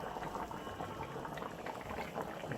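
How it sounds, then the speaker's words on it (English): A pot of ugbonno egusi soup simmers at a steady boil, soft continuous bubbling and popping, quiet and close, with no talk over it. "So this is the ugbonno egusi soup."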